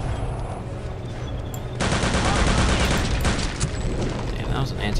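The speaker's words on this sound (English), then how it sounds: "Damn, that was an anti-tank weapon if I ever seen one." Loud sustained gunfire in the Return to Castle Wolfenstein game, with an anti-tank weapon firing amid dense fusillade that intensifies about two seconds in and stays heavy and near throughout.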